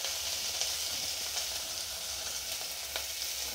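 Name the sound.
onions and curry leaves frying with turmeric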